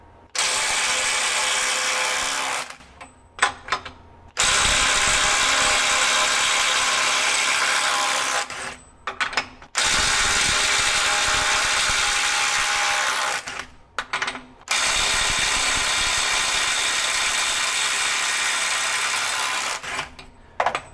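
Bosch Freak GDX18V-1860C impact driver running in reverse to break a fastener loose, four long loud hammering bursts separated by brief pauses, close and dominant.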